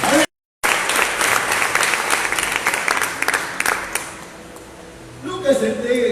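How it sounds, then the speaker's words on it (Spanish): A church congregation breaks into loud, sustained applause and clapping during a Spanish-language evangelism sermon, continuing for several seconds and fading toward the end as a voice returns. "Dale un fuerte aplauso al Señor."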